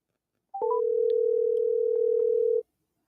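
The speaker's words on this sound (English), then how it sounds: "Calling James Parker to see where he is" A telephone call rings out: a few quick rising tones, then one long, steady electronic tone of about two seconds, clear and alone before cutting off to silence.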